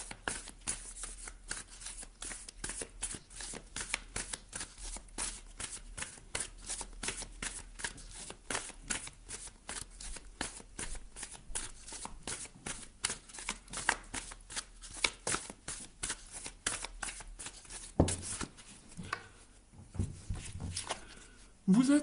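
Oracle cards are shuffled steadily and close up for about twenty seconds, a dense run of quick riffling flicks, then a brief pause with light handling at the end.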